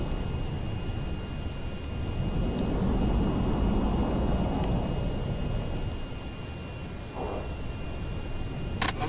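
A VTOL aircraft hovers in VTOL VR, a steady loud engine roar that swells and eases slightly, with faint cockpit tones and beeps above it.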